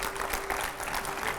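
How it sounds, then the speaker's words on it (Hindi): A studio audience applauds a welcome for yoga guru Swami Ramdev, with steady, dense clapping from a crowd filling the whole moment at an even, loud level. "जोरदार तालियों से स्वागत करिए।"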